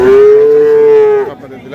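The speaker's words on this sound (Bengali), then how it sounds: "তো দর্শক আপনারা দেখলেন দুধের গাভী গরু" A dairy cow at Khochabari cattle market in Thakurgaon gives one loud, close, drawn-out moo lasting over a second, followed by faint background market noise.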